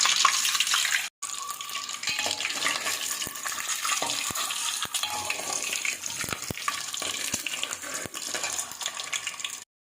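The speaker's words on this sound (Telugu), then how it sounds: "ఇప్పుడు నూనె వేడైందండి ఈ గుడ్లు కొంచెం లైట్గా ఫ్రై చేసుకుందాం" Boiled eggs fry lightly in hot oil, a dense continuous sizzle and crackle with occasional sharp pops and stirring knocks, close and steady throughout, briefly cutting out near the start, no talking.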